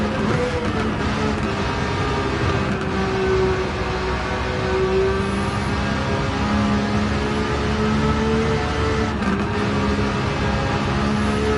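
A Nissan Skyline R34 GT-R V-Spec II Nür '02 in Gran Turismo 7 drones steadily at high revs, its pitch climbing and falling through gear shifts during a time trial run, loud and continuous with no talk.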